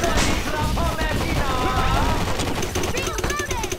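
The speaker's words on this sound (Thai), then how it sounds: "เอฟเฟกต์เสียงปืนนี่มันจะลั่นสุดๆเลยนะ" Rapid bursts of video game gunfire in the game Toy Wars crackle continuously under a busy, cluttered mix of other game sounds and voices.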